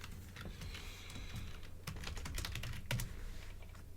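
Fast, irregular keystrokes clatter on a computer keyboard nearby, quiet but crisp, with no talking.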